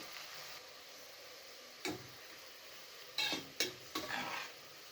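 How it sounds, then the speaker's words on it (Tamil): Sliced onions sauté in oil in a pot for chicken biryani, a soft continuous sizzle broken by a few sharp stirring clinks and scrapes of a spoon against the pan. "வெங்காயம் நல்லா வதங்கி வரட்டும்."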